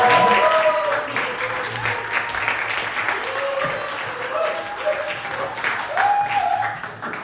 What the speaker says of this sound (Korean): 우리 천성은 전도사님, 우리 박수로 환영하겠습니다